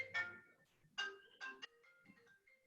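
A phone ringtone plays during a city council work session, a short melodic electronic tune of several tonal bursts sounding fairly faint in the meeting room, with no talk over it.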